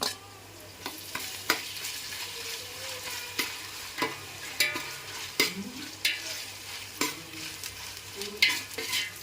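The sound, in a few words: ginger garlic paste frying with onions, stirred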